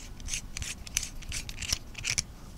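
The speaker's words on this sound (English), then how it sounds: "If you want to change your coil out, then you just unscrew the base here." The base of an Innokin Zenith Pro vape tank is unscrewed by hand, making a close run of short, rhythmic metallic scrapes and gritty thread rasps.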